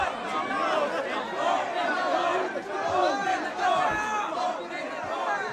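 Large, frustrated crowd waiting outside a streamer's Christmas giveaway event, a dense, continuous murmur of many voices with occasional louder shouts rising and falling.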